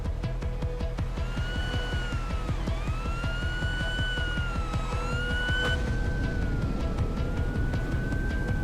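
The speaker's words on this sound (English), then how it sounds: "Here's a distress call." Electronic distress call played at sea to lure marine predators, a steady, slowly wavering siren-like tone sounding continuously over loud, constant background rumble and noise.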